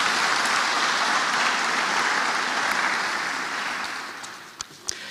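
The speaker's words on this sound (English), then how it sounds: "A round of applause, please." Applause fills a memorial service hall, many hands clapping in a steady dense wash that gradually thins and fades, with a few isolated claps and knocks near the end.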